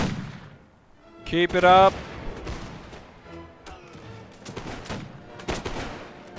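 Musket volleys crack out across a Mount & Blade Warband battlefield as scattered, thumping shots, loud one moment and distant the next, while someone talks over them.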